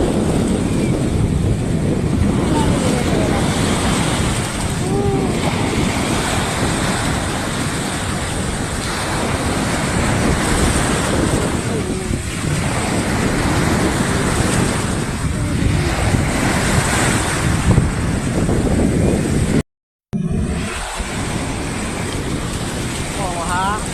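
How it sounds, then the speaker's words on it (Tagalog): Ocean surf rolls in on a tropical beach, a constant broad wash of breaking waves mixed with gusty wind buffeting the microphone, loud and close throughout with a brief dropout near the end. "Patong-patong yung mga wave doon"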